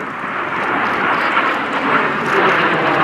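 Vintage Gnat jets, a type first flown in 1955, roar overhead in a three-ship formation barrel roll at an air day, a steady broad engine rush that swells slightly as they pass.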